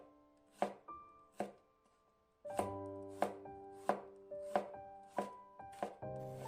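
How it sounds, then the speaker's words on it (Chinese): A knife slices a few garlic cloves on a cutting board with about a dozen crisp, close chops in an uneven rhythm, some spaced apart and others quick in succession. "几瓣大蒜切成片"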